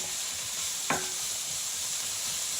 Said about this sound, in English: I'm just gonna actually use our teakwood spoon to get this all stirred up and ready to go